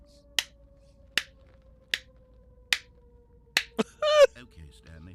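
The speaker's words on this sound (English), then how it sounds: "My slow clap." A slow clap from The Stanley Parable: five sharp, evenly spaced single claps ring out against quiet, then a short burst of speech follows.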